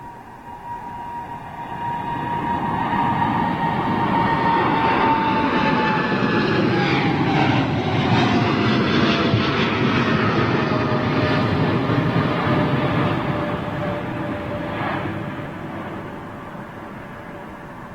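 An airliner takes off at London Heathrow Airport, passing close by with a loud, sustained jet roar and a whining engine tone that slides down in pitch as it goes past, then slowly fades.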